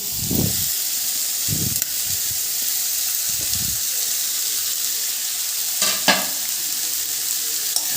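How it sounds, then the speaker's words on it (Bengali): Chopped ash gourd goes into a pan of roasted mung dal and fries with a steady broadband sizzle, broken by several short stirring scrapes and a clatter near the end. "মুগের ডালগুলো আমার ভাজা হয়ে গেছে, এবার কেটে রাখা চাল কুমড়োগুলো দিয়ে দিচ্ছি।"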